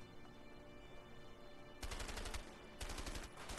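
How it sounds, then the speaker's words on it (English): Gunfire in the co-op game A Way Out, two loud rapid bursts of shots, the first starting partway in and a second following about a second later, heard alone over a quiet background. "I have no choice but to shoot you."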